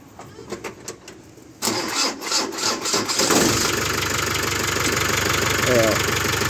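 An Iveco truck diesel engine with a recently replaced injection pump starts up and settles into a steady idle, its clattering knock loud and close after some initial tapping, with a voice briefly heard nearby.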